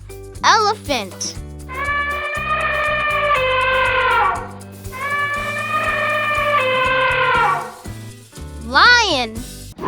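An elephant trumpets in two long, loud, brassy blasts over backing music, with a brief bright voice at the start and end.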